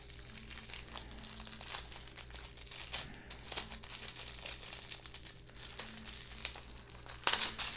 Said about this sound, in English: We have this guy right here wrapped up in this really pretty paper.